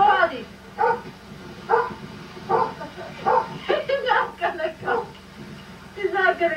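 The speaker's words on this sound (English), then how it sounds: "That's Diane's neighbor's dog" A neighbor's dog barks outdoors at a lakeside cottage in Wisconsin in cold weather, giving repeated short barks in an irregular run beneath and between people talking nearby.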